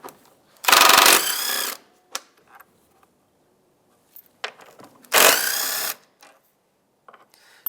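Two long bursts of a power ratchet or drill spinning out 10 millimeter bolts on the fresh air intake duct of a 2007-2015 Mazda CX-9, loud and close, with small metallic clicks and handling knocks in between.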